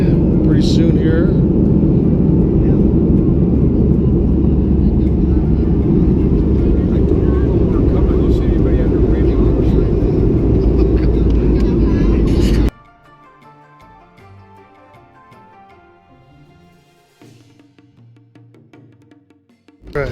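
Steady, loud airplane cabin roar during the descent before landing on a night flight from China to Vietnam. It fills the first half, then drops abruptly to a much quieter hum.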